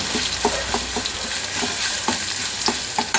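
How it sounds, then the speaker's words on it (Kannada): Crushed garlic fries in hot oil as a chicken pepper dry is being made, giving a steady close sizzle broken by a rhythmic series of scraping stirs about every third of a second. "ಇದು ಚೆನ್ನಾಗಿ ಆಯಿಲಲ್ಲಿ ಫ್ರೈ ಆಗಬೇಕು."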